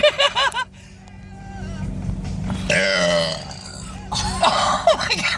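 Several loud, drawn-out belches come one after another, some croaking and gravelly, with short gaps between them.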